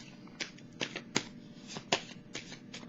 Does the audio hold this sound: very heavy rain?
no